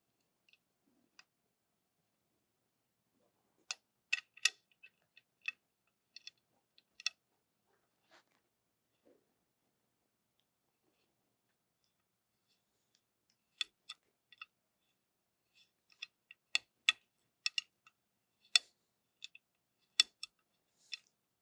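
A metal improved modified choke tube is threaded into the barrel of a Heritage Badlander shotgun, making faint, sparse metallic ticks and clicks in small clusters separated by near silence.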